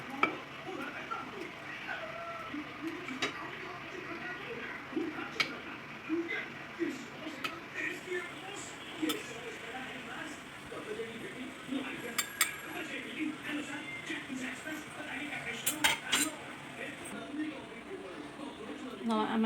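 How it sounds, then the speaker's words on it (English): Sambar ladled over soaked vadas in a dish for South Indian sambar vada, with soft pouring splashes and faint clinks of a ladle against the dish under a steady room background, continuing for the whole stretch. "Now I am transferring the sambar into the soaked vadas."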